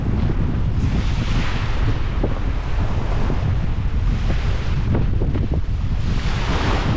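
Strong waves pound the shore at Weymouth Beach, New Zealand, while gusty wind buffets the microphone in a loud, continuous roar with rhythmic surges of surf and no speech.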